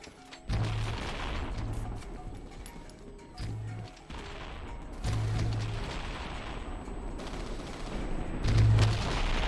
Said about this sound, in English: I have the perfect weapon for this. It's called a grenade launcher.